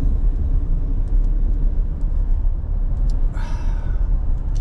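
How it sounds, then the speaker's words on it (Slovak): A car driving on a rural country road in Kansas or Missouri gives a loud, steady low rumble of engine and tires heard from inside the cabin, with a brief rushing swell near the end. "Odbočil som z diaľnice a idem teraz vidieckou cestou na základňu"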